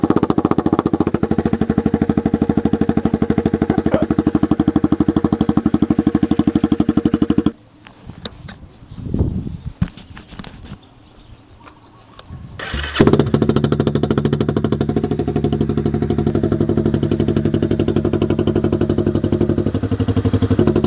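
Motorcycle engine with a custom exhaust, a loud rough idle that drops off, then fires and revs back up to a steady throbbing run.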